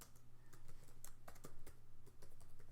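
Fast, irregular keystrokes on a computer keyboard while entering program code, close and fairly quiet, with a steady low hum underneath.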